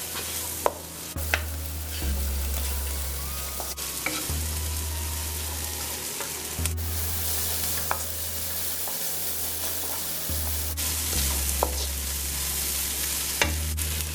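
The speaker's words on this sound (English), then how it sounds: "we'll just let this fry for a few minutes" Onion frying in a pan, a steady close sizzle with occasional clicks and a low hum underneath, carrying on without a break.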